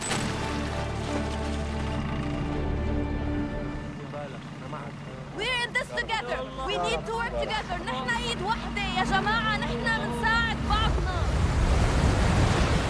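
Rough open-sea waves surge and wash steadily in a film scene at sea with a small, overloaded migrant boat, heavy with wind noise; voices come in over the roar midway and continue to the end.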